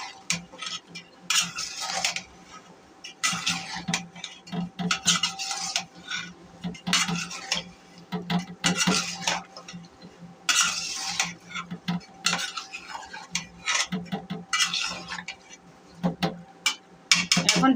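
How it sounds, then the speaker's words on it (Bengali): Potatoes and liver are stirred in a cooking pot with a metal spoon, giving repeated scraping and clinking strokes in an irregular rhythm with a faint sizzle underneath. "এখন ভালো করে নাড়া দিতে হবে।"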